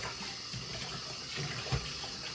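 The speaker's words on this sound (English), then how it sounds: "A bit of water in the bucket. So you don't need boiling water, it's just hot water out of the tap." Hot tap water runs steadily into a bucket, a constant rushing hiss with a few small splashes and knocks near the end.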